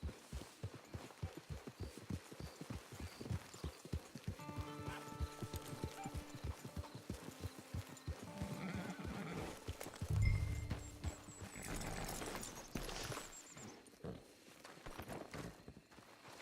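Horse hooves clip-clop in quick, steady rhythm in Red Dead Redemption 2, walking then trotting close by, with a horse's whinny rising midway and a soft thud after, set against faint game ambience.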